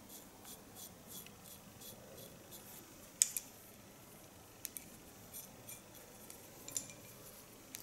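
A razor knife slices through slightly moist hair in short, faint scraping strokes, with a few sharper snips and clicks in a quiet room.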